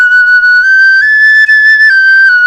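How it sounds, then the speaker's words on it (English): A bright, piercing piccolo holds a few clean sustained notes, stepping up slightly then back down, loud and alone. "That sound is produced by a piccolo."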